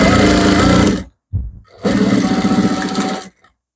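An electric sewing machine stitches a dress lining in fast, buzzing runs: one long burst, a short stop-start, then another sustained run, close and loud with no talking.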